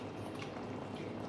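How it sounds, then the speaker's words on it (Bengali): Fish curry boils in a covered pot, a steady soft bubbling and simmer that holds evenly throughout, fairly quiet and close with no talk over it. "তরকারি ফুটছে"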